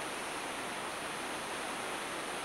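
Bright Angel Creek rushing through a hot, narrow gorge in the Grand Canyon, a steady broadband wash of flowing water close by with no voices over it.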